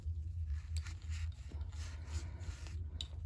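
Cleaning the opened bolt of a First Strike less-lethal marker gives soft, close rubbing and scraping strokes in an irregular rhythm, faint and without speech.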